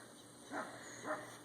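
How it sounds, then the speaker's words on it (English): Dogs bark twice in the distance, faint and spaced about half a second apart, from beyond a dry summer garden with a quiet steady background. "You can hear my dogs barking in the background."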